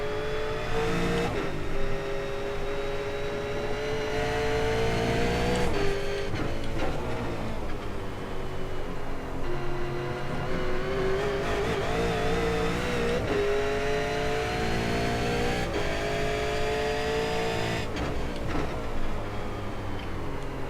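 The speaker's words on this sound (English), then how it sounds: "Helps to blip on the downshift." A simulated V8 race car at Road Atlanta in iRacing, its engine droning loud and continuous with rising and falling pitch as the throttle is blipped through downshifts, with no break in the sound.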